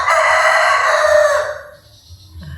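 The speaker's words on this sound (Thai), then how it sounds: "ก็สิมีเสียงไก่ขันรบกวนเนี่ยเนาะทุกคนเนาะเพราะว่า" A rooster crows once, loud and close, in a long drawn-out call that fades after about a second and a half, outdoors in a rural village during the rice harvest season.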